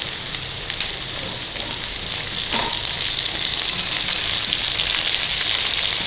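Tomatoes sautéing in a pan with onion and green chili give a loud, continuous sizzle that stays steady throughout, with a faint stirring scrape partway through.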